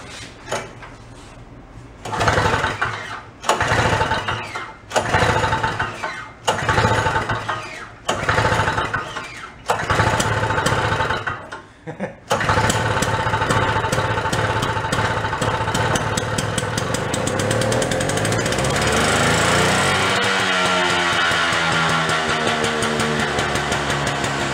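A small engine on a John Deere garage-sale find sputters through repeated cranking attempts, then catches and runs steadily at idle, close and loud with a rough, uneven chug.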